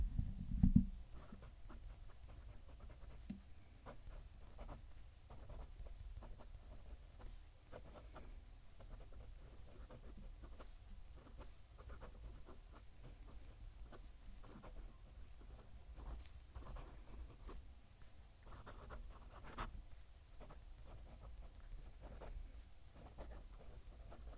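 A gold-nibbed fountain pen writing on paper, heard close up as a faint, continuous light scratching with small irregular strokes and no voices.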